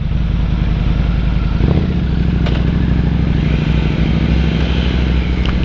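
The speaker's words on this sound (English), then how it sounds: "Noisy little Harley there." A small, noisy Harley-Davidson motorcycle rumbles loud and close, its engine idling and rising slightly in a steady throb on a road near a fuel station, with no speech over it.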